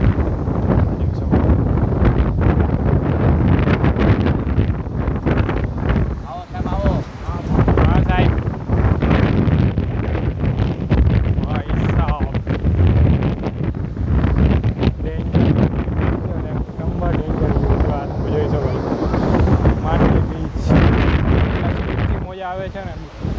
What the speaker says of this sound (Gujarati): પવન એકદમ ફૂલ આવે છે.